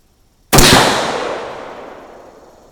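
A single loud, sharp gunshot from a Bear Creek bolt-action AR-15 rifle in 5.56 cracks after a short silence and rings out in a long fading echo.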